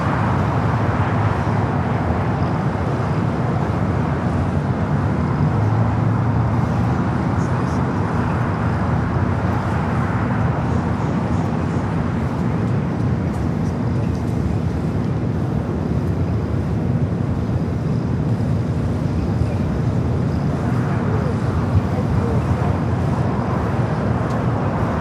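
A Lufthansa Boeing 747 starting its takeoff roll at LAX, a continuous loud broadband engine roar with a deep rumble, slowly swelling and steady, heard from a distance with wind buffeting the microphone.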